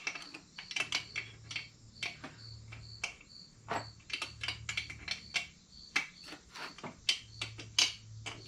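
A wrench snugs down bolts on a Honda Odyssey FL250 440cc two-stroke engine during a rebuild, giving dense, irregular runs of sharp close ratcheting clicks in quick bursts over a faint low hum, with no talking.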